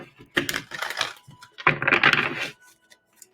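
Tarot cards shuffled up close in two quick bursts of crisp, papery riffling and slapping, separated by a short pause, with no voices.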